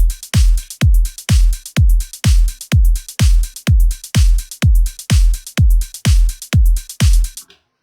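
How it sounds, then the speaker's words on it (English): A trance drum loop built in FL Studio 12 plays alone: a standard kick and percussion strike in an even, punchy rhythm, about sixteen loud hits in a row before cutting off. "The drum loop on its own sounds like this."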